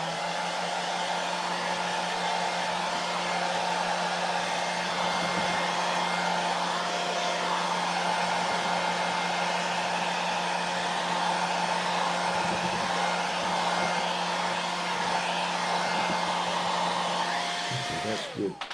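A hair dryer runs steadily indoors, drying Minwax finish on a wood carving, a loud continuous whine and rush that holds unbroken for nearly the whole stretch before cutting off at the very end.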